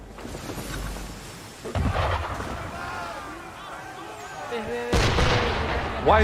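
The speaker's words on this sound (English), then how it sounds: "Why is he shooting at us?" Cannon fire from an enemy ship in Assassin's Creed III booms out in heavy, thunderous blasts over rumbling battle noise, with two strong shots standing out loudly and a voice speaking briefly amid the din.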